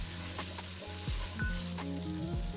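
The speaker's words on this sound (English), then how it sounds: "Just continue cooking this down until everything's fragrant and those onions are nice and soft." Onions cooking down in a pot with tomato paste and chili flakes for a beef short rib ragu, a soft, even sizzle broken by a few low knocks and brief tonal squeaks of utensils.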